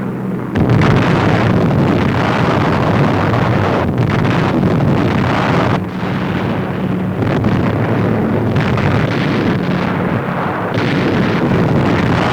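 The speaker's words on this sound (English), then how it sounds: "At low level, they loose their bombs upon the Jap-infested jungle." Bombs dropped from low-flying aircraft explode on a New Guinea jungle during wartime, a loud continuous roar of blasts and rumbling close up, with heavy wind-like noise throughout and no talk.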